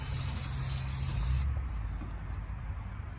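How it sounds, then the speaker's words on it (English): Aerosol can of brake cleaner sprayed during a thermostat change on a Chrysler Town and Country, a loud steady hiss for about a second and a half that cuts off abruptly, leaving quieter room noise. "Just use some brake cleaner."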